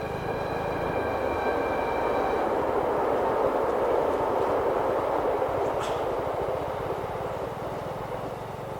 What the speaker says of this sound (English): Look, when you hear that train,